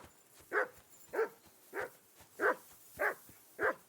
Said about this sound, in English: I assume you can hear that damn dog of yours